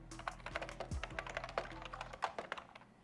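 A Knucker TT Sports gaming keyboard being handled, with a steady run of sharp, close key clicks and plastic taps over about three seconds and no voices.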